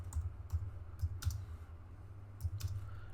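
Keys tapped on a computer keyboard while entering trade notes for backtesting, with a few scattered quiet clicks in short irregular bursts, close and faint.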